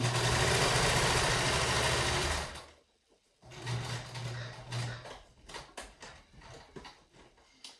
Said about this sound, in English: my sewing machine is really loud because it really is one of the loudest ones I've used